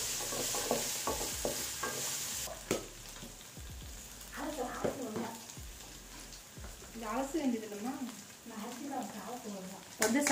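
Green chillies and onion being sautéed for a cabbage stir-fry, with a soft hiss and repeated stirring taps under a voice that talks through much of it.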